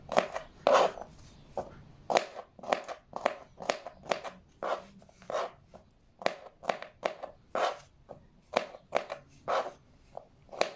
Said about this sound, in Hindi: लहसुन और अदरक को बारीक काटने के बाद इसका पेस्ट बना लें आपस में मिक्स करके